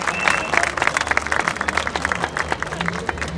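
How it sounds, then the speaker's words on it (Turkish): A crowd applauds a Bulgarian folk ensemble at a festival, with loud, dense clapping and distinct individual claps standing out near the front, continuing steadily throughout. "Evet, kocaman alkışlıyoruz."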